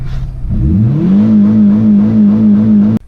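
A Volkswagen Golf 3 GTI 8-valve engine runs with its catalytic converter removed. It revs up from a low rumble into a loud, steady, throaty drone that holds close and constant before cutting off abruptly.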